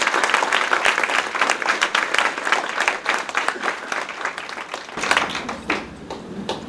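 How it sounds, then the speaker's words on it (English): A banquet crowd at a women's awards dinner breaks into applause, lively overlapping claps that swell and ease, with a brief dip before a final burst near the end. "So once again, I'd like to have another round of applause for Sylvia."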